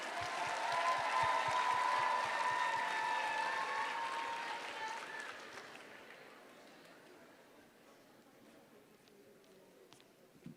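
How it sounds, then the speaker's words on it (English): A round of applause from an audience at a student debate welcomes the first negative speaker, loud and steady at first, then fading away over the final seconds. "Everyone, please give a warm round of applause to our first negative speaker."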